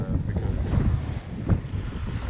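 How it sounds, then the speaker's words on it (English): Strong wind buffeting the microphone at a boat anchorage, loud rumbling gusts with water noise close by, no clear voice. "now in here the wind doesn't seem as bad, but out there you can see the white caps"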